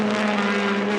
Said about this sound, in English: let's listen to the Honda.